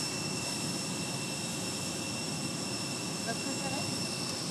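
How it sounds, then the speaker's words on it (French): Steady jet engine roar from a Boeing 747 airliner at Orly airport, a continuous broad rumble with a high whine held evenly through the whole stretch, fairly loud and close, with no talk over it. "Comme là, le 747, il est vraiment impressionnant."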